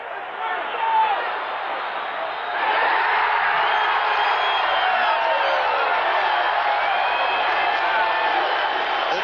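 A packed football stadium crowd at a 1981 Raiders–Chiefs game roars in a dense, continuous wash of voices that swells louder partway through and holds at full volume.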